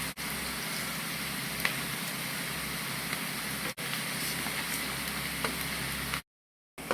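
Onions and cumin seeds frying in a pan over a medium flame, a steady close sizzle and crackle running unbroken for several seconds, then briefly cutting out before resuming.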